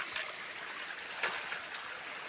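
Water trickling softly along a freshly dug channel outdoors, a faint, steady flow with a couple of small splashes or clicks.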